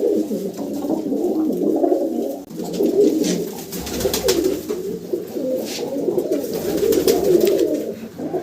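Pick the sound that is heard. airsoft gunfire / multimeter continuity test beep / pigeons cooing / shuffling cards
pigeons cooing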